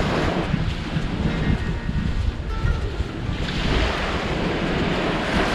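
Ocean waves break and wash onto a white sand beach, a loud, continuous roar of surf mixed with gusty wind buffeting the microphone, with no voices.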